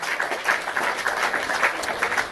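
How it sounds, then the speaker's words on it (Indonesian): An audience claps together at a live-streamed religious talk show, a dense, even patter of hands that stays moderately loud for the whole stretch. "Iya, tepuk tangan dulu."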